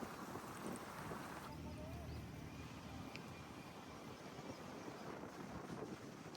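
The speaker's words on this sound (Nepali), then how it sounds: "यो हावा सिरिरी चलिरहेको छ।" Wind gusts across an open sheep-grazing meadow, a continuous broad rush and buffeting against the microphone that holds steady throughout with no clear voices.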